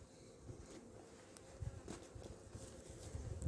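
A honeybee colony hums inside an opened hive of old frames during the year's first inspection, a faint, steady, close buzz with soft rustling and no voices.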